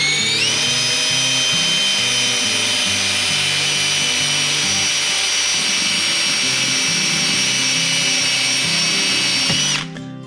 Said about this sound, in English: Using our drill with a 1/2 inch bit, we'll drill through the saddle T opening